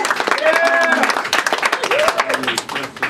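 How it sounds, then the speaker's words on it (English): Applause and scattered cheers from a comedy show audience, clapping bursting loudly then thinning out toward the end, with a voice and laughter mingling over it. "Yes, you can applaud that."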